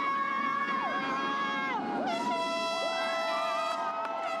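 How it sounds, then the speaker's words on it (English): Crowd of fans welcoming the champion Dodgers back home in Los Angeles, with horn-like tones sliding up and down over the steady babble of many voices. "they were welcomed back by a crowd of adoring fans"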